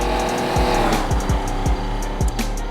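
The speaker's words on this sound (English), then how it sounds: "after that car is gone" A car in the FiveM video game drives past with a steady engine drone and a few quick tire squeals or skid chirps spaced through it, fairly loud and with no talk.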